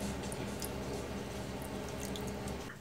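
Water poured into a cooking pot of cherries, a steady close splashing and trickling that runs unbroken for a few seconds with no talk.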